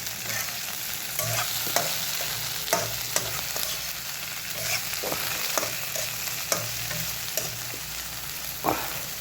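Spatula stirring bitter gourd, potato and dried fish in a frying pan, with repeated scraping strokes over a steady sizzle, close and moderately loud, no voices.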